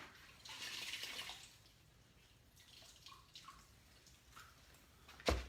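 A cabinet painting tool gets dunked and rinsed in water, making a faint sloshing and dripping at the start, then quiet trickles and a sharp knock near the end.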